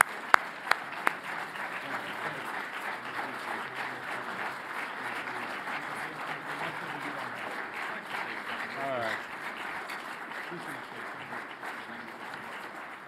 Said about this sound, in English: if we could just finish by giving Mike Duffy a big round of applause